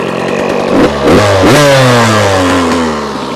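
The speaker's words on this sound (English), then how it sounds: "it's idling pretty good right now" A 2023 GasGas MC 85 two-stroke dirt bike engine, running on 40:1 premix, idles loud and close with a buzzy tone, then blips into a short rev in the middle before settling back to a steady idle.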